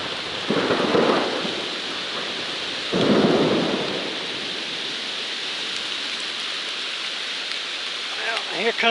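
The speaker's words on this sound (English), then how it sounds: "Here comes the rain." Rain falls on a forest trail during a storm. Two deep rolls of thunder boom near the start, then steady rain patters on leaves and ground.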